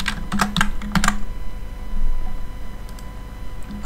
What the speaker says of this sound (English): So I will type transform dot position.